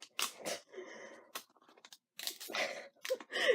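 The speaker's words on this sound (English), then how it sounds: "Trying to get the clamshell apart." Stiff plastic clamshell packaging around a lip balm is pried and wrenched apart in close, irregular bursts of crackling, crunching and snapping with short pauses between.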